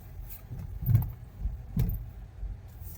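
A car being driven at night, its engine giving a quiet, low steady hum from inside the cabin, broken by a couple of soft thumps and bumps along the way.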